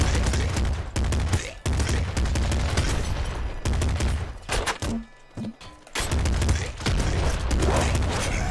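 Nuclear Throne grenade launcher fire, with dense bursts of thumping shots and explosions that repeat in loud, chaotic waves, broken by a short quieter gap.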